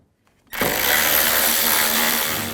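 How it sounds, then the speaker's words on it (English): A power tool with a T30 socket spins out screws on a 2004-08 BMW X3 cover, a loud, steady whirring burst that starts suddenly after half a second of near silence and holds to the end. "I want to take these 4 screws out. I'm going to use a T30 socket"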